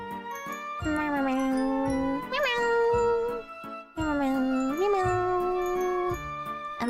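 A human voice imitating a cat's meow: two drawn-out, wavering meows with rising and falling pitch, loud and close, with a faint jingling tone behind them.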